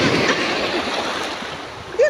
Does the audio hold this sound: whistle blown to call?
no